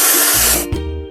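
A spray can hisses steadily in a kids' truck-building game as paint is sprayed onto a truck, a loud bright burst that cuts off and is followed by a short cartoon chime.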